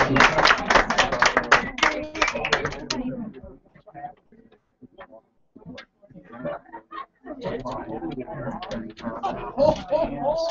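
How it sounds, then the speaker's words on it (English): Audience claps for a poet at a live performance, a loud clatter of hands that fades into scattered claps, then voices talk over the last stretch. "Do another round of applause for Dan, the Poetry Man."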